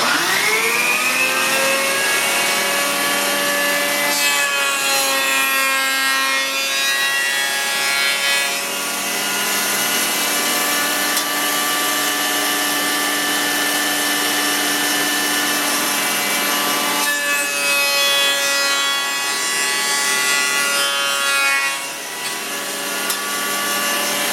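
A planer flattening a board for scale lumber, a loud continuous mechanical whine with rasping cutter noise as the wood feeds through, alone and steady over a long pass.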